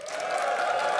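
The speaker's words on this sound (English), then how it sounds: "Cheer for Magikarp." An audience at the PAX West 2024 Blue Dragon Theatre cheers for Magikarp, a short burst of massed crowd noise that builds quickly and holds steady, loud and sustained.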